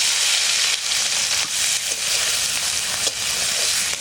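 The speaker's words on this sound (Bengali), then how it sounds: "সর্ষের তেল দিচ্ছি।" Fish fries in mustard oil with a loud, dense, continuous sizzle up close, broken by a few soft stirring or scraping touches.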